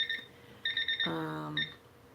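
A timer sounds a few quick, high electronic beeps in short groups, with a brief lower tone between them, quiet and close in an indoor session.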